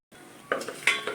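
Whole spices, among them shahi jeera, bay leaf, cloves, cardamom, cinnamon and pepper, stirred in a pan for chole biryani: a few close metallic scrapes and clinks over a faint sizzle.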